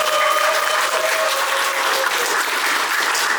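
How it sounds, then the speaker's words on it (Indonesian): Colleagues at an employee gathering applaud together, a steady, dense crowd clap that holds evenly at close range from start to finish. "Kita tepuk tangan buat teman-teman."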